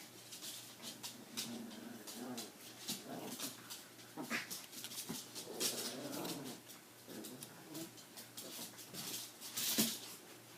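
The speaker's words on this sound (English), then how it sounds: "my dogs are fighting on in the background" Dogs scuffle in the background of a room, with intermittent whimpers, yips and growly bursts, faint and somewhat distant amid rustling noise.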